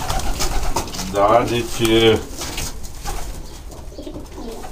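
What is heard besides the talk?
racing pigeon cooing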